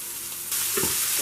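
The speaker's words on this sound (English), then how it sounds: "Now into this we will be adding the bitter gourd." Brined bitter gourd pieces hit a shallow-frying pan, and a loud hissing sizzle swells suddenly partway through and holds steady, close up.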